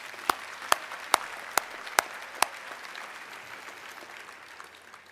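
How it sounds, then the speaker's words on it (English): Six sharp, evenly spaced claps ring out at a slow steady beat for a Crowder College tribute at a members' address, then stop, leaving a quiet room hum. "How about a round of applause for Crowder?"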